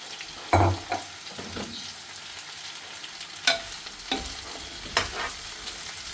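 Vegetables and green chillies wilting in hot oil for a vegetable kurma, with a continuous soft sizzle and several sharper spoon scrapes against the pan at irregular intervals, alone and close.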